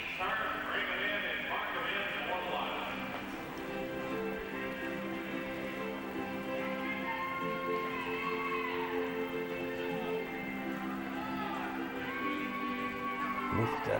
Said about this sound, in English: There's a bunch of horses out there.